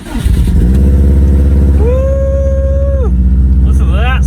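A custom-built car's engine fires up for its first start in snowy conditions, a loud, close, steady rumble with rising and falling revs, joined by a whistling pitch sweep and excited shouting over it.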